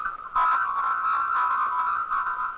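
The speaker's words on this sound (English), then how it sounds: "A squeezed message sounds like this." Squeezed telephone speech comes through as an unintelligible, warbling, narrow-band babble, a steady compressed midrange chatter lasting a few seconds, alone and fairly loud.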